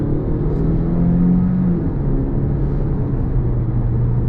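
A BMW 316i driven in sports mode, heard from inside the cabin as a loud, steady engine drone and road rumble with slight shifts in pitch as the car pulls along.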